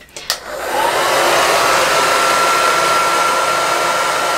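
A hair dryer runs on a cool, low air setting, clicking on after a couple of brief handling knocks and then blowing in a steady, loud, close whoosh with a faint whine.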